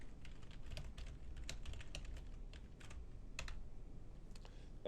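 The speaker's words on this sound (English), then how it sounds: "I will type test file for lesson." Typing on a computer keyboard, a steady stream of soft, close key taps with irregular rhythm, heard alone without talk over a faint background.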